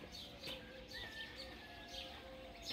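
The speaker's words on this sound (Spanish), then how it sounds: "Ahí nomás sigue el cantar de los pajaritos." Small birds sing at a ranch among the fields on a cloudy morning, giving faint, distant chirps and short whistled notes over a soft outdoor ambience.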